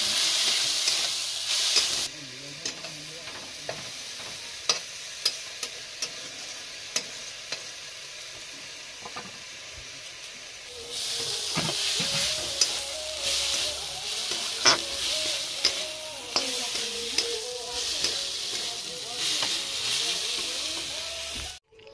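Onions and leafy greens (saag) frying and being stirred in a pan, a steady sizzling hiss with scraping stirs that grows louder and brighter partway through, with no talk.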